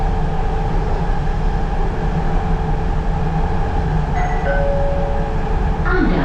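Underground MRT metro train running in Malaysia, a steady loud rumble and rail roar throughout with a brief tonal whine near the end, heard from inside the carriage.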